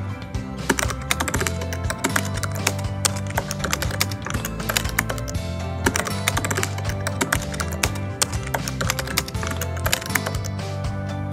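Rapid, uneven clattering of keystrokes on a computer keyboard while login details are entered, the taps loud and close over a steady tonal background.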